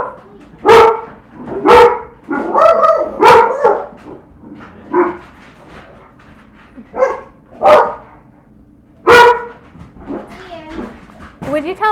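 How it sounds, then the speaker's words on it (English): Several dogs bark loudly and repeatedly indoors in bursts, someone at the door setting them off, with people talking around the barking. "Would you tell the dogs to knock it off?"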